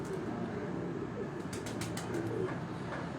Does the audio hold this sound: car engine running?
no